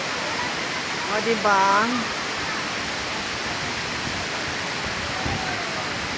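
Batlag Waterfalls in Tanay, Rizal pour as a steady, broad rush of falling water that fills the whole scene, with a short spoken exchange and a brief whistle-like tone near the start.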